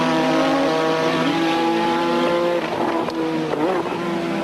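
A 1986 Formula 1 car's engine screams loudly and steadily at high revs during practice for the British Grand Prix, with a pitch shift as it passes and faint commentary beneath.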